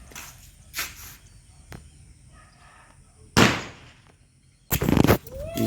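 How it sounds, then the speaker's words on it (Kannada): Firecrackers burst outdoors: two loud sharp bangs ring out in the open, with faint crackling and a few smaller pops scattered between them. "ಇಲ್ಲೊಬ್ಬ ಪಟಾಕಿ ಹೊಡೆದು ಬರ್ತಾನೆ ನೋಡಿ ಗೈಸ್"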